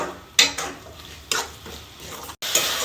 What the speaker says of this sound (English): We'll stir it continuously until the moisture evaporates out.